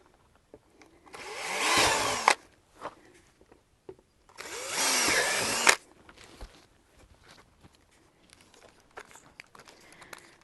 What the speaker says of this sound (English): we're going to go with a slightly smaller drill bit to do a pilot hole